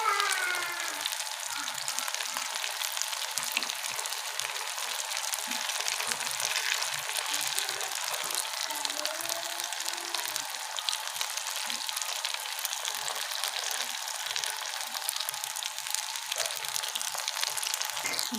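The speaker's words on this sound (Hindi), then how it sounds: "तो अच्छे से हमने क्रिस्पी वाले फ्राई करने हैं।" Crispy chicken and potato rolls fry in hot oil, giving a steady, soft, continuous sizzle with no talking.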